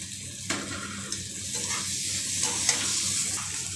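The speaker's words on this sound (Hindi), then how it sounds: "अब उबला हुआ आलू डाल देंगे" Steady sizzling of boiled potatoes frying in a pan, with occasional stirring scrapes and clinks, continuous and close.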